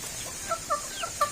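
Several short clucks from chickens, spaced out over a soft background hiss, fairly faint and close by.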